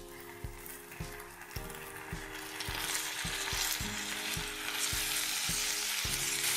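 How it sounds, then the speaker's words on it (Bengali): Vegetables and soaked, drained basmati rice frying for pulao, with a dense continuous sizzle and a regular knocking of a spoon stirring the pan about every half second. "চালটা, 1 মিনিট ভেজে নেব।"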